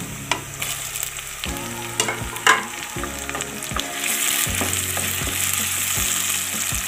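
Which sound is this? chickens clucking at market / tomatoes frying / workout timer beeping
tomatoes frying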